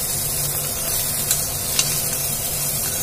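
Coriander seeds fry in a pan for a tangy kalimkaya chutney, giving a steady, close sizzle throughout with a couple of tiny crackles popping through.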